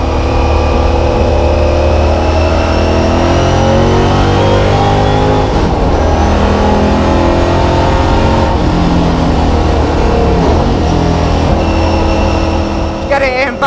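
A 650bhp V8 Lola T70 race car on a track, its engine loud and close from inside the cockpit, revving through rising and falling pitch sweeps with gear changes, while a driver talks over the din.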